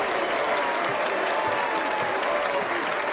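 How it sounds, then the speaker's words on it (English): A basketball arena crowd applauds steadily, a dense wash of clapping and cheering that holds throughout at moderate loudness. "the Kings will return the favor and let the shot clock run out in 24 seconds as the crowd applauding"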